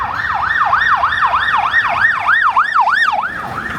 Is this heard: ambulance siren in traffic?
yes